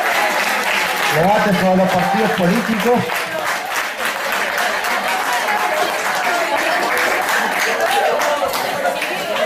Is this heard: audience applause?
yes